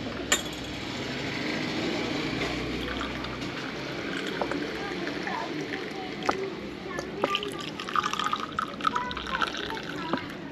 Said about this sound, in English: So first we cleaned out the cups with hot boiling water.